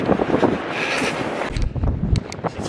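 Strong headwind roars across the microphone while running on a beach, a steady buffeting rush with gusty low rumbles, loud and close with no voices.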